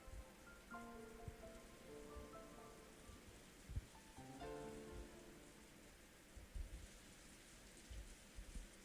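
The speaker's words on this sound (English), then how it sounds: "the obnoxious pounding of the rain against the window" Heavy rain pounds steadily against a window in a visual novel scene, with occasional louder gusts, while soft piano-like tones play faintly underneath.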